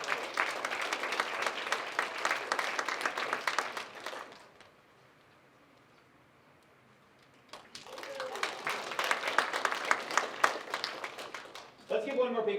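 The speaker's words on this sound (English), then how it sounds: "Let's give one more big round of applause for all of our participants on Selection Saturday." A speech showcase audience applauds the participants, with dense, sustained clapping that fades to near silence midway and then returns in a second loud burst.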